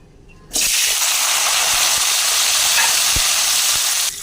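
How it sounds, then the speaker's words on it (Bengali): Sliced capsicum dropped into a hot pan of oil after potatoes bursts into a loud, dense sizzle that starts abruptly and holds steady, with a few faint clinks underneath. "সিমলা লঙ্কা ভাজা হয়ে গেছে"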